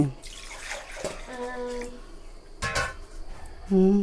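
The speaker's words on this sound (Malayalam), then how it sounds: "അതിൽ ഇനി കുറച്ചും കൂടി വെള്ളം ഒഴിച്ചിട്ട് ഒന്ന് കലക്കി" Water splashes and gurgles in short bursts into ground chutney paste in a container, close and fairly loud, with brief voices and tonal sounds in between.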